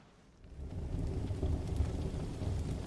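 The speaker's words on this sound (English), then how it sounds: "As a storm rumbles overhead." A thunderstorm rumbles overhead with steady rain, deep rolling thunder swelling in after a brief quiet start and holding loud and broad, rain hissing throughout with no voices.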